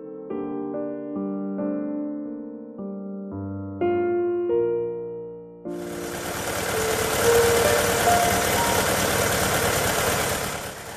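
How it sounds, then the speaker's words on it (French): The water-cooled four-cylinder engine of the unique Citroën Projet L prototype, derived from the GS unit, runs steadily and close by for about five seconds, after a stretch of melodic music. "c'est intéressant de voir que ce moteur qui est absolument unique fonctionne parfaitement"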